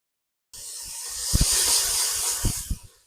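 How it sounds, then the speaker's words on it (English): Coconut oil sizzles and hisses steadily in a pan as a curry is started, a bright continuous fry with a few soft knocks and clatters from cooking in the middle and near the end. "We'll put our coconut oil in there."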